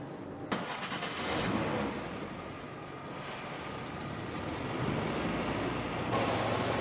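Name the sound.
Škoda car engine running in a fuel power test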